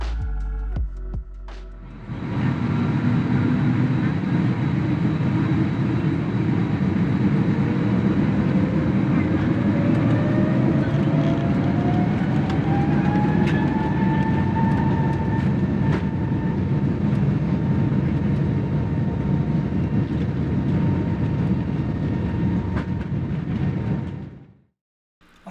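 Inside the cabin of a Delta A321neo climbing out after takeoff from LAX: a loud, steady engine roar and rushing air with a tone slowly rising in pitch, fading out at the end.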